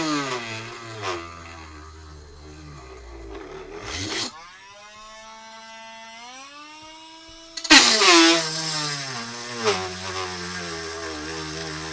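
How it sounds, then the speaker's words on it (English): Cordless power drill boring through plastic on a workbench, its motor whining and shifting in pitch as it bogs under load, with louder bursts near the middle and a fading run at the end. "So I drill through the plastic instead."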